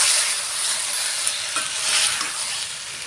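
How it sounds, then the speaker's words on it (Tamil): Spoon stirring ground masala into a pot of country chicken curry, a steady close sizzle with soft scraping sweeps over about three seconds, no voices. "நல்லா பரட்டி விடலாம்."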